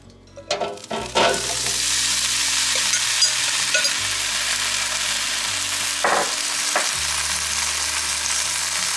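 Food fries in hot olive oil in a pan with breakfast seasoning of cinnamon and sugar, making a loud, steady sizzle close by after a few stirring clatters at the start, with occasional stirring scrapes.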